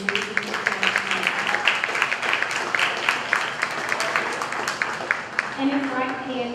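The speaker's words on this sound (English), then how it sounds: "the biggest thank you, and a big round of applause goes to Greg Perkle for his vision for this" Audience applause at a Pecha Kucha talk event: a dense, steady patter of many hands clapping throughout, with a voice speaking briefly at the start and end.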